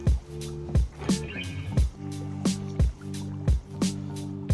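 A fishing kayak paddle dips rhythmically into calm water, regular splashes and drips every second or so with low knocks of the blade against the hull, close by and without talk.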